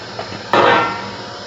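Washed red lentils dropped into hot water in a pan, a single sudden splashy whoosh that fades over about a second, close and fairly loud.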